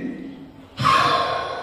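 A forceful exhale during a yoga cleansing breath practice, starting abruptly midway as a loud, steady breathy rush that follows a quieter stretch of soft breathing.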